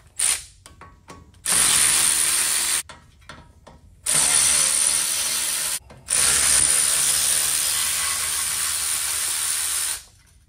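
A ratchet, likely a powered one, spins out 8 mm bolts from the caliper dust cover on a Ford F150 in three loud, sustained whirring bursts of a few seconds each, with short clicks between them and no talk.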